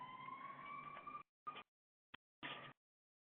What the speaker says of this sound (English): I hope you don't hear that siren. It's going right by my office.